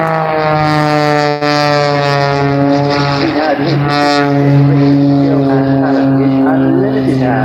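Unlimited-class aerobatic aircraft performing at the 2018 Bournemouth Airshow, its propeller engine droning loud and steady with a strong harmonic whine that rises and falls slightly as it manoeuvres, continuous throughout.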